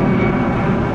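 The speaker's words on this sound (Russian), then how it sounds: "И самолет." An airplane flies over a beach in Adler, a loud, steady roaring drone filling the whole short moment without any talking.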